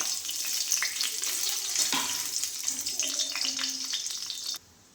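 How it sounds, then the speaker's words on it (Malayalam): Steady, close sizzle of about fifteen dried red chillies frying in oil crackles throughout, with a few light scrapes, then cuts off abruptly near the end. "ഒരു പതിനഞ്ച് വറ്റൽ മുളക് എടുത്ത് വെച്ചിട്ടുണ്ട് അതൊന്ന് വറുത്തെടുക്കാം"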